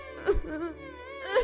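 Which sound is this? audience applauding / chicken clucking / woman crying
woman crying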